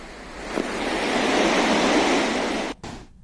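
A swollen river in Uttarakhand, running high after days of heavy rain, rushes as a loud, steady roar of broadband water noise that cuts off abruptly near the end.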